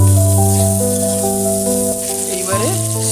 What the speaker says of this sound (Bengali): আলুটা আমার ভাজা হয়ে গিয়েছে, এবারে টমেটো আর কাঁচা লঙ্কাটা ভাজার সঙ্গে দিয়ে দেবো।